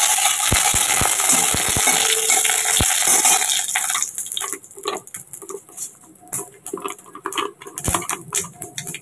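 Black mustard seeds crackling in hot oil, a dense sizzling patter at first that thins into scattered sharp pops and spits, close by and without talk.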